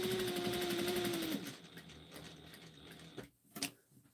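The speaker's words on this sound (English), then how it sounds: "And I'm just going to sew." A sewing machine stitches through three or four stacked fabric layers of a Halloween trick-or-treat basket at a 2.5 stitch length, a steady close whir for just over a second before stopping, followed by faint handling clicks.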